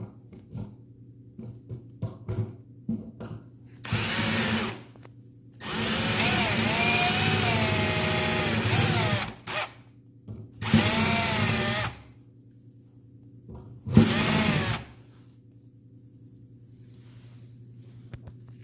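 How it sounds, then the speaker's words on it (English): A power drill bores holes into a van's wooden bed platform in four separate bursts of loud whining, the longest lasting several seconds, with quiet pauses and faint handling noises between them. "I flip it over and I'm gonna drill 2 holes and we'll make a recess"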